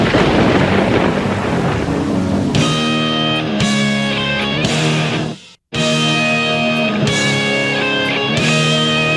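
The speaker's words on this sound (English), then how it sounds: "with the lightning and thunder and the rain and the way this is" Thunder rumbles during a rainstorm, a loud continuous roll with broadband rain-like noise, cutting off abruptly for a moment before resuming at full strength.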